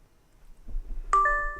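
A single bright electronic ding with ringing tones from an Aoocci C6 Pro motorcycle navigation dash cam signalling a phone connection, sounding clearly after a moment of low background noise.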